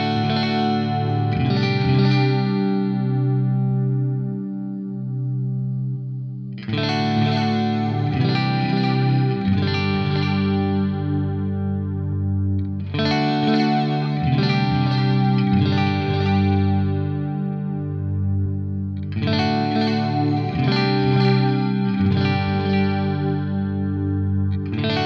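An electric guitar runs through a modulated delay on a Fractal AX8 with the LFO phase set to 0, playing sustained chords that ring and repeat in four long phrases, warbling echoes trailing each strum, loud and without talk.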